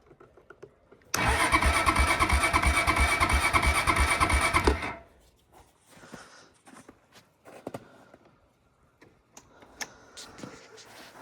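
Cheap four-wheeler ATV engine cranked in a start attempt, a loud rapid chugging burst lasting a few seconds up close, then cutting out to quiet handling noises and small clicks.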